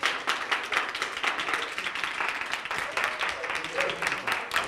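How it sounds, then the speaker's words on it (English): Steady applause from an audience at a team challenge event, continuous dense clapping with light rhythmic peaks throughout, no voices rising above it. "give them a huge round of applause, please"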